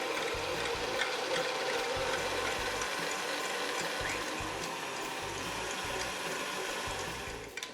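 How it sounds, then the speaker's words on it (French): An electric mixer whips chilled cream with a steady, continuous mechanical whir that runs near and unbroken throughout, with no talking. "Donc je commence à petite vitesse et progressivement j'accélère."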